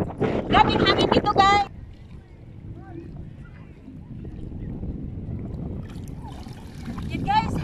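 Gusty wind at the seashore buffets the microphone with a low rumble, while someone talks over it at the start and end.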